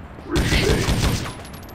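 Rapid ricochet gunfire from the Judge Dredd video game crackles in a dense, loud burst lasting about a second, then tails off into a fading rumble.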